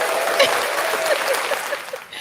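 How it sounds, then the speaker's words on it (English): An audience claps for a performer in a steady wash of applause, moderately loud, with faint voices and a few brief tonal sounds mixed under the clapping. "We're gonna give RJon a round of applause here"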